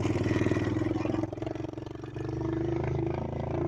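A CR50F pit bike engine drones steadily while being ridden on the road, a continuous mid-pitched motor hum with a brief dip in loudness midway before settling back to a steady run.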